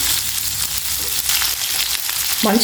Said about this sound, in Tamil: இது எல்லாத்தையும் சேர்த்து நல்லா வதக்கிக்கலாம்